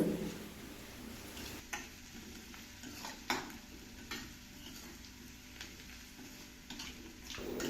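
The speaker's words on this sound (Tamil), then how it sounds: "அந்த கொத்தமல்லியும் புதினாவும் நல்லா எண்ணெயில் கொஞ்சம் நேரம் வதங்க விடுங்க" Coriander and mint leaves sautéing in oil for a mushroom gravy, a quiet, steady sizzle close by, punctuated by soft spatula taps and stirring scrapes at irregular intervals.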